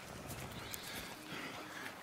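Horse whinnying and hooves clip-clopping in the western video game Red Dead Redemption 2, a steady close, moderately loud mix of hoof steps and whinnies lasting about two seconds.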